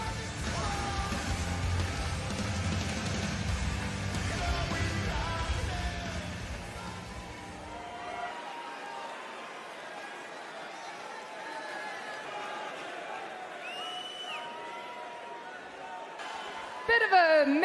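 A wrestling arena crowd in Dublin at WWE Raw gives a mixed response with booing, loud and dense for about eight seconds before thinning into a quieter, scattered murmur.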